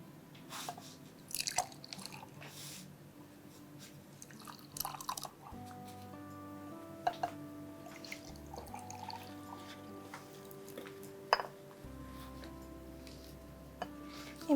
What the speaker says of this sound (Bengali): ঢেলে দাও মিক্সচারটা।